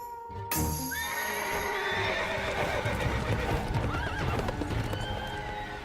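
Animated-series horses whinny and neigh loudly over the rhythmic clatter of hooves on hard, rocky ground, with a sharp noise at the start.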